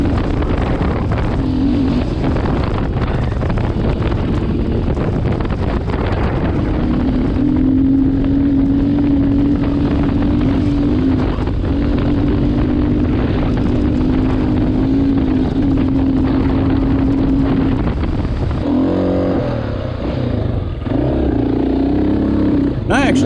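Honda XR600R dirt bike running open in 5th gear on a desert trail, a loud steady engine drone mixed with heavy wind buffeting, and the rider speaking over it.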